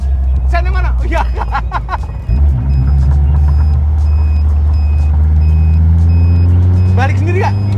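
A Caterham Seven sports car drives with a steady, loud engine drone and shifting pitch throughout, while people talk and chat over it from inside the open cockpit.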